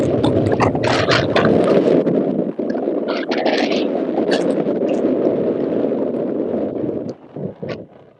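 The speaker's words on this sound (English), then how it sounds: "it's getting real windy up here" Strong wind buffets the microphone on an open cruise ship deck, a loud, continuous low roar with bursts of gusting rumble that fade near the end.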